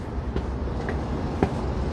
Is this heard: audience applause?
no